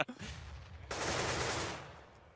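Automatic gunfire in a professional Counter-Strike match on Mirage, a muffled crackle followed by a dense burst of rapid shots that holds for about a second before fading, with no talk.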